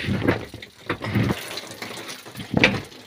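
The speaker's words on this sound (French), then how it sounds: "Là il y a de l'eau, hein. On va la faire couler." Water pours and splashes off a slack tarp at a sheep shed in a few uneven gushes, close and fairly soft, with quieter gaps between.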